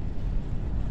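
Steady low rumbling wind buffeting the microphone while fishing from a kayak in shallow water, a constant close roar filling the short stretch with no talking.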